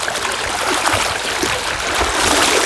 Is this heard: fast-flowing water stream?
yes